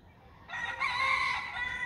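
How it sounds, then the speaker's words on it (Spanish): A rooster crows once, loud and close, its call rising sharply and holding for over a second against a quiet background with no talk. "un gallo"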